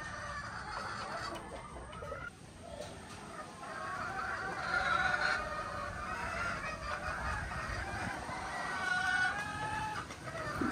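Hens in farm breeding pens cluck and call continuously, a busy overlapping flock at moderate distance with no talking over it.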